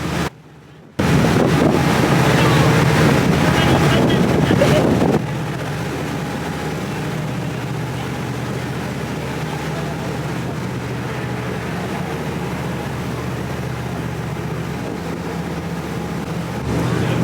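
A ferry bound for Vallejo, heard from its open top deck: heavy wind buffets the microphone in a loud roar at first, then eases into a steady broadband rush of engine drone and water noise that carries on without pause.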